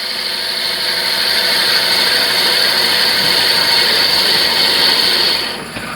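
A drill boring into a wooden pepper mill blank on a lathe, giving a loud, steady, high whine with a broad rush of noise. It holds evenly for several seconds, then eases off at the end.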